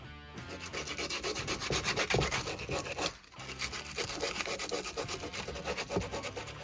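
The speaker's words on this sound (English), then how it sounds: "I've sanded it down, filed it down so that it's nice and smooth." A water pipe is sanded and filed smooth by hand, giving a steady, rhythmic scraping rasp of quick repeated strokes. It is close and continuous, with one brief pause partway through.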